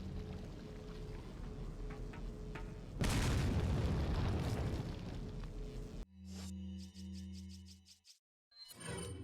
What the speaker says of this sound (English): What a frag toss.